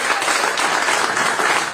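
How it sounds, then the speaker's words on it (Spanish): An audience at an international gathering on democracy and sovereignty in Latin America applauds its speakers, a dense and even burst of many hands clapping that fills the room from start to finish. "un aplauso para todos nuestros ponentes"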